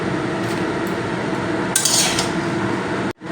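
A spoon stirs fried rice in a pan, giving a steady, close scraping and clinking throughout with a brighter scrape burst midway, no talk.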